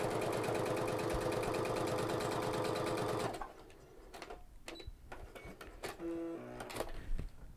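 A sewing machine fitted with a roller foot stitches steadily through laminate fabric and suede, a fast even mechanical chatter that runs loud for about three seconds, then stops and leaves quieter clicks and handling sounds.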